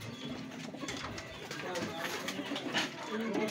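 Pigeons cooing and fluttering nearby in a steady busy outdoor background, with some rustling and faint bird calls throughout.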